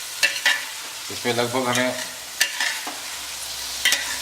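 Onions fry and get stirred in a kadai for Hyderabadi mutton korma: repeated scraping strokes over a soft sizzle, with someone speaking briefly in the middle.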